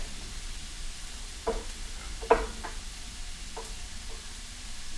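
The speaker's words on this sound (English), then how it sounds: "this garlic I am putting in the pan, and then all these things are going to be fried until the onion is light or clear" Garlic and onion frying in a pan for a South Indian peanut chutney, giving a soft, steady sizzle broken by a few light clicks and knocks of a spatula against the pan.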